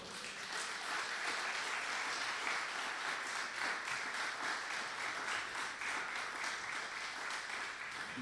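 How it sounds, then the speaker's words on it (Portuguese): Church congregation applauding during a sermon, a dense, steady wash of many hands clapping that fills the whole stretch at moderate, even loudness with no voices over it. "Então, aplaude o Senhor."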